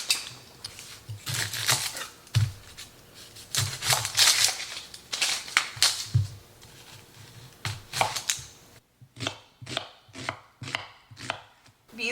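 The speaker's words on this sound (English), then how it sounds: "So I'm going to go ahead and chop 4 onions up for both those things." A knife chops onions on a cutting board in a home kitchen, a rapid run of crisp, close knocks, then slower, evenly spaced strikes toward the end.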